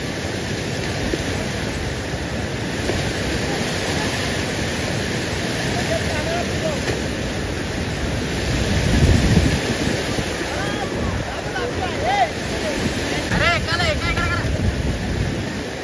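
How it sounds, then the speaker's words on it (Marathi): Heavy rain pouring down at Belwadi waterfall, a dense, steady roar of rainfall and rushing water with wind buffeting the microphone, swelling midway; brief faint voices. "पावसाची जोरदार एंट्री."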